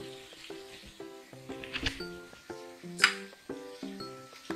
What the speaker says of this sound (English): I'm going to stir this again so that all the spices are mixed very nicely